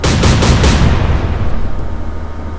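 Naval guns firing in the warship strategy game Atlantic Fleet: a rapid run of four heavy booming blasts up front, then a long rumbling decay fading away.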